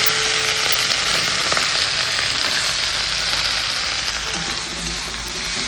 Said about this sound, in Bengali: পেঁয়াজটা যখন এরকম ভাজা হয়ে যাবে তখন আমি দিয়ে দিচ্ছি এই কেটে রাখা শিমগুলো।